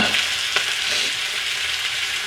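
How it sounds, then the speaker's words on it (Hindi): Indian spices tempering in hot oil, a steady loud sizzle and crackle close by that holds evenly throughout with no voices. "थोड़ा सा इंडियन मसालों को तड़का लगाए इसमें।"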